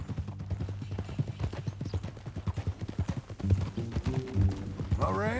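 Horse hooves clip-clop in a steady rhythm on the ground in Red Dead Redemption 2, fairly close, with a low musical drone and brief sounds over it near the end.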